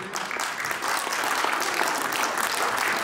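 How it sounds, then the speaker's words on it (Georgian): Audience clapping steadily at a children's ensemble concert in a hall, dense sustained applause from a full crowd, close and loud throughout. "თქვენი აპლოდისმენტები"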